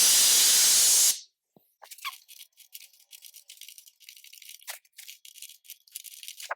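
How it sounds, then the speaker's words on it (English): An air blower gives a loud, steady hiss for about a second while clearing debris off front brake parts on a Honda during a GSR Integra brake install. Quiet, scattered clicks and handling noises follow. "Sometimes I'll take my air blower and blow it off just to get that debris out"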